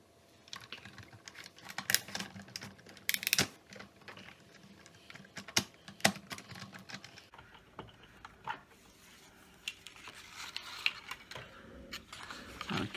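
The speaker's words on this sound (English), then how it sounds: "This time I'm going to run my die through this direction because I only want it cutting on the front of the card." Die-cutting machine rolling a die through a foiled window card, giving a close, busy run of clicks, taps and mechanical rattles with a steady grinding texture that shifts partway through.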